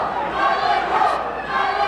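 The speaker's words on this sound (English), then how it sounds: "So a few members of the crowd now chanting Bellico, Adair Terry's nickname" A few vocal fans in a fight crowd at UFA 60 chanting the nickname Bellico, a sustained rhythmic vocal chant over steady arena murmur.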